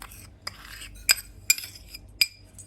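Three tablespoons of brown sugar go into a bowl for cinnamon rolls, a metal spoon tapping and clinking against the dish in four or five sharp, close strikes over soft scraping and quiet room hum.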